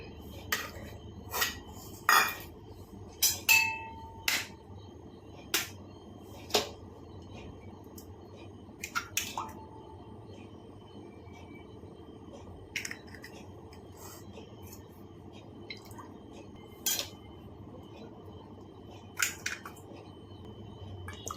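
Sharp, scattered clicks and taps of eggs being cracked against a mixer jar's rim, with quiet gaps between them and no talking.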